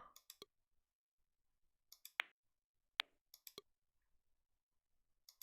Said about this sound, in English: The clacking of the balls puts you on edge